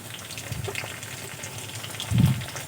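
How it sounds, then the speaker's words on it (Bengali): Chopped tomatoes hit hot fried onions in a pan while cooking an egg poach curry, giving a soft steady sizzle with a brief louder burst of frying near the end, no voices. "পেঁয়াজ ভালো করে ভেজে নিয়েছি এখন আমি কেটে রাখা টমেটোগুলো"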